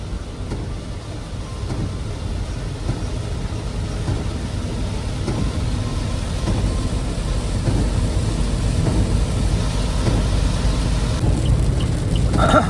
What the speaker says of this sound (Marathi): आणि बेकारवाला पाऊस आहे, बेकारवाला.